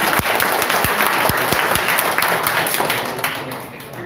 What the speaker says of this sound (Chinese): 这么值得鼓掌的时候，怎么没有听到掌声啊？